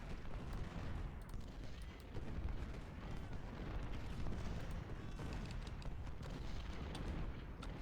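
Continuous dense rumble of cannon and artillery fire from the Civil War battle game Ultimate General at Spotsylvania's Mule Shoe, overlapping booms and crackling volleys filling the whole stretch at steady loudness, no voices.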